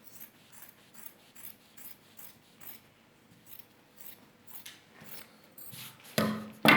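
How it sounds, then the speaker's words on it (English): Quiet, repeated snips of scissors cutting fabric at a zipper allowance in a steady rhythm, followed by a couple of louder handling bumps at the end. "The next thing now is to cut open the zipper allowance."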